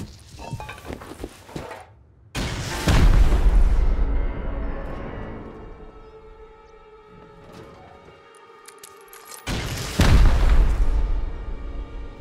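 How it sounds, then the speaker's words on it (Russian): Two heavy, booming blasts from video game explosions, a few seconds apart, loud and rumbling, with a lingering low roar between them and no talking. "я слышу звуки взрывов как раз таки в стороне моего дома"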